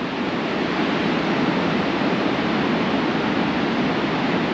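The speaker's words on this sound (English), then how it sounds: "there's some nice waves rolling through" Ocean waves roll onto a beach in a national park at Coffin Bay as a steady, loud, continuous wash of surf with no distinct breaks, with some wind noise and no voices.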